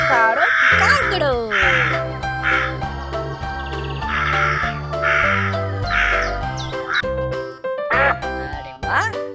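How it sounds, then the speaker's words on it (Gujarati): Crow cawing, a run of loud, harsh caws repeated in an uneven rhythm over a steady musical backing, close and prominent throughout. "આ છે કાળો કાળો કાગડો."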